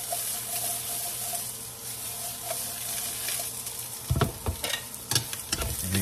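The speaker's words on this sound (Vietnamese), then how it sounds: "cần đảo sơ qua với dầu với tỏi thôi là ăn ok rồi" Pork ribs, already boiled, are stir-fried with oil and garlic in a pan, with a steady sizzle under brisk stirring and scraping that grows louder and more clattery near the end; no talking.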